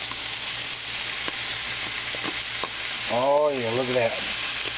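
Peppers and onions dropped in with spicy hot sausage sizzle steadily and close in the pan, a constant frying hiss with a few small pops, while someone speaks briefly near the end.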